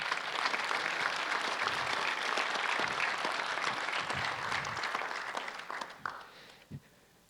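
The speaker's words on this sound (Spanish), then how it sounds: "Den un aplauso al Señor." A church congregation applauds during a sermon, filling the room with broad, steady clapping that gradually thins and dies away near the end.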